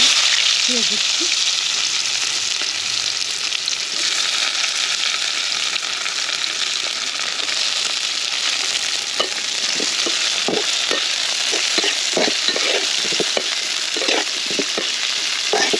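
Pangas fish and onions sizzle in hot oil for a village-style Bengali curry, a loud continuous frying hiss close by, with scattered clinks and scrapes of stirring toward the end.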